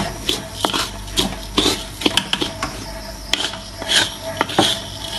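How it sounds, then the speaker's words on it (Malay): Flour dry-fries in a wok without oil, with soft, irregular scrapes and shuffling taps from a utensil stirring it against the pan, close and moderately loud. "Okey, sekarang kita dalam proses menggoreng."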